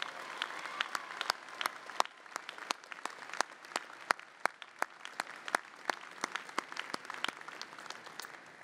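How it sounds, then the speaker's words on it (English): Sustained audience applause fills the hall at an MBA spring commencement ceremony, dense overlapping clapping with sharp individual claps standing out, steady and moderately loud with no talking. "let's give a big round of applause to Ali and all those unable to be here in pe"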